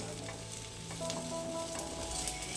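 Chicken legs fry on a grill pan over full flame. A quiet, continuous sizzle with faint crackles, heard close up with no voices.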